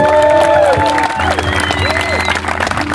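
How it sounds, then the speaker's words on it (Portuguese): Wedding guests applaud the couple, clapping and cheering loudly and close, with voices and tonal sounds mixed under the crowd noise throughout. "uma salva de palmas para eles"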